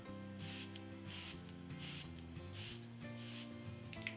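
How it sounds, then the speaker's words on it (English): Smashbox Photo Finish Primer Water is misted over the face in a rhythmic series of soft, hissing spritzes, faint and close beneath steady background music. "I'm just going to spray this all over my entire face."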